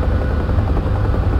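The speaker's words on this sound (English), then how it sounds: "Always good to have your own helicopter, especially a Huey." A Huey helicopter in the DCS flight simulator roars with a loud, constant low rotor thump and engine drone, steady and close for the whole moment with no talk.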